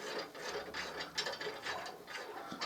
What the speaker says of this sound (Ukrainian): Зараз я її відкручу, щоб вам показати поближче.